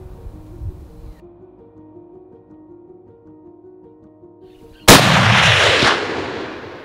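A single loud rifle shot on an African hunting safari, a sharp blast that rolls into a long fading echo after a quiet stretch of outdoor ambience.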